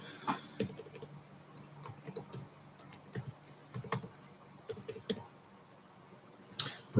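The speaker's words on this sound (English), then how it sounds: "Typing it out" Fingers tap on a computer keyboard in quiet, irregular clusters of light clicks, with occasional sharper key strikes and brief pauses between bursts of typing.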